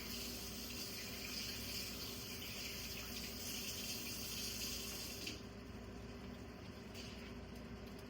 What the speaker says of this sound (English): get us a little water in here